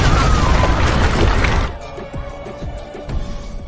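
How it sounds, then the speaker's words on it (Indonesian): A loud, rumbling explosion tears through an apartment in a film scene, a dense roaring blast lasting over a second before cutting to quieter debris and ringing tones. "diikuti oleh ledakan di apartemen milik Lindy"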